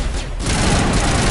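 A grenade detonates in Mass Effect, a dense, loud burst of explosive noise that swells after a brief quieter moment and rumbles on for about a second.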